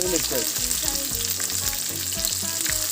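Onions fry in hot oil alongside chicken, a loud, close, steady sizzle with crackling bubbles throughout and no voices.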